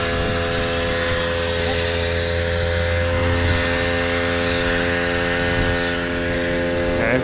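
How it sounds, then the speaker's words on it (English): Compressed air blasting dust out of the coil of a York HVAC rooftop package unit, a steady loud hiss over a constant mechanical hum and drone that runs unbroken throughout. "So let's try to blow it out and see if any dust comes out."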